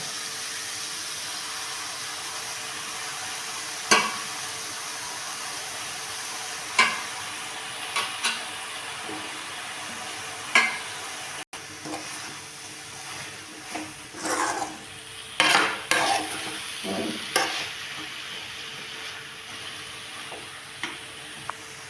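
Banana stem stir-fries in a pan with coconut and greens, a soft continuous sizzle broken by a series of scraping stirs and clinks that grow busier toward the end, with no talking.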